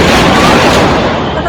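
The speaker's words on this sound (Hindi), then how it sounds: "पटाखे के स्वर को प्लीज इग्नोर करना" Firecrackers burst during Diwali, a loud continuous wash of crackling pops and booms filling the whole moment, close and overwhelming with no clear gaps between blasts.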